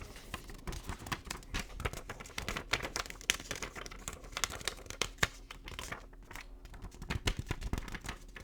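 Close, dense crinkling and rustling of a paper banknote from an Eastern European currency collection, handled continuously in soft ASMR style with crisp crackles throughout and no talking.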